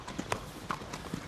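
A horse's hooves clip-clop in a short run of distinct hard knocks on the ground at an uneven walking rhythm, fairly close but fairly quiet.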